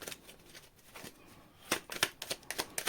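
Cards being shuffled during a tarot reading, a run of crisp riffling bursts that grows louder toward the end, close and alone with no voices.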